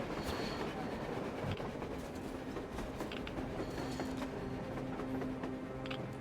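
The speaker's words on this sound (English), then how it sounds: "A train! A damn train on the surface!" A train rolls along on the surface in the video game Metro Exodus, a steady rumble with rhythmic clickety-clack of wheels and faint metallic squeals, continuous and moderately distant with no voices.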